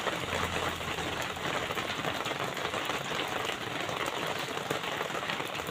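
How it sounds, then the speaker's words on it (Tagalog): Rain falling steadily at night beside water during tilapia fishing, a continuous dense hiss of drops on surfaces, moderately loud and unbroken. "Nahina na po uli ang ulan."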